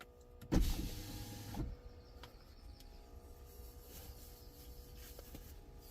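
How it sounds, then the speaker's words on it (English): A Ford C-MAX power window rolling down, a short loud motor whir near the start that stops after about a second, then quiet cabin ambience with faint outdoor sounds. "Roll down the window, get some air in."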